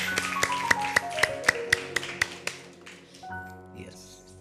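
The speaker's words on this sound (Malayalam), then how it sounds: "Angel clap go" Children at a Christian kids' TV show do the angel clap: about nine crisp, evenly spaced claps in quick rhythm, then they stop, over a faint tonal background.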